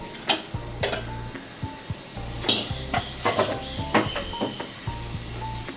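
Chopped tomatoes and slit green chilies going into a pan of frying masala for chicken curry, producing a steady sizzle with clinks and scrapes of a utensil against the pan, fairly close.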